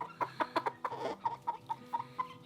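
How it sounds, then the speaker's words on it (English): Barred Rock hen clucking in a winter homestead barnyard, a quick series of about ten short, close clucks in an uneven rhythm, with a louder squawk at the end. "Here's one of the Barred Rock girls."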